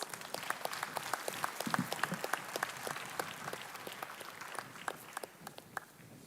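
Audience applause at a youth conference opening, a steady field of many hands clapping, moderately distant and even, sustained throughout without talk.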